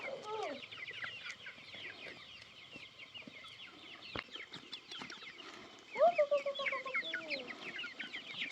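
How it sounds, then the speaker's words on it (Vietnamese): Farm chickens clucking and squawking at feeding time, a busy overlapping chorus of short calls with a louder burst of nearby clucks partway through, fairly quiet overall. "Rồi mình đi cho gà ăn đi."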